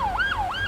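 An emergency vehicle siren wails up and down in a smooth repeating sweep, loud and fairly close, with no voices over it.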